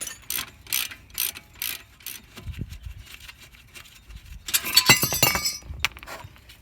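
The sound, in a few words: ratchet removing 17 mm brake bracket bolts on Toyota Camry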